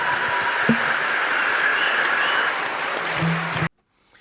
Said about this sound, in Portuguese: salve de palmas para Jesus, que é ele que merece